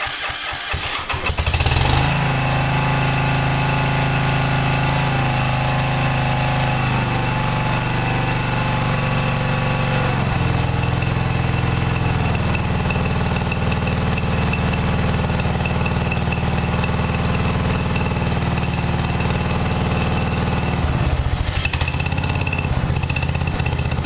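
A John Deere tractor engine with a newly replaced fuel pump rumbles loudly and steadily after a brief start-up burst, idling close by on its own with no talking.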